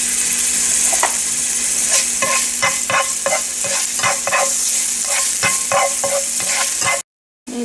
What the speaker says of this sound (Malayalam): ഇഞ്ചി ഇട്ട് കൊടുക്കാം